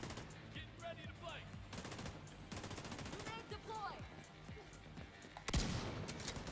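Gunfire from The Division 2, rapid automatic bursts repeating in a fast rattling rhythm over about five seconds, then a sharp louder shot near the end, with a voice speaking over the shooting.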